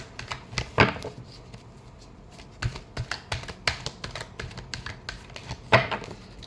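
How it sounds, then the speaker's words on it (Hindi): Tarot cards are shuffled in quick irregular bursts of crisp, close riffling clicks, with a couple of louder flicks and no talking. "Last shuffle."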